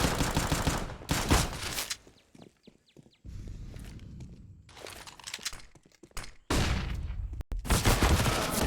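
Galil rifle gunfire during a Counter-Strike match on the Ancient map: sharp bursts of rapid shots opening and closing the stretch, with quieter in-game clatter and footsteps between them.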